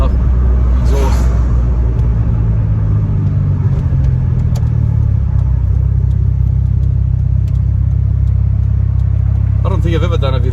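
Engine and exhaust of a car, a loud steady low rumble and drone throughout, heard close up with a voice at times.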